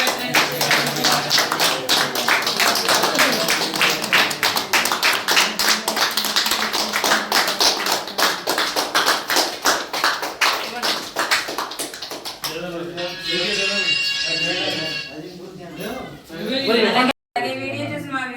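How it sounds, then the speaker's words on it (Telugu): A group claps together in steady, rapid applause for an elderly resident's birthday at the Amma Seva Sadanam ashram in Aswaraopeta. The clapping runs loud for about twelve seconds, then voices talk and cheer. "అందరూ క్లాప్స్ కొట్టండి"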